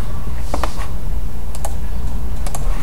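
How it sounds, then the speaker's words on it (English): Typing on a computer keyboard while setting up an Excel spreadsheet, a few brief clusters of crisp key clicks close by against a steady background hiss. "we're going to type"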